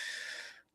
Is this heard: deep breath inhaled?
yes